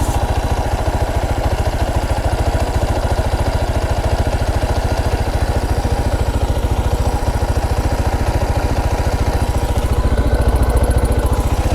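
A Bajaj Platina motorcycle engine idling while its carburetor RPM screw is adjusted, a close, steady, rapid thumping putter that holds even throughout.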